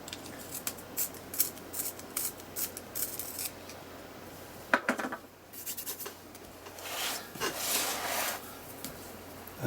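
A pencil is sharpened in a handheld pencil sharpener, giving repeated close scraping and grinding strokes in irregular bursts, with no talking.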